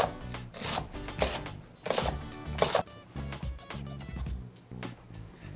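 Knife slicing a fennel bulb on a cutting board, a close series of crisp, uneven crunching cuts and board knocks in quick bursts, with no voices.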